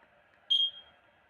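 A single short electronic beep from a Y1S e-bike alarm, high-pitched and fairly close, rising sharply then trailing off over a faint steady hum.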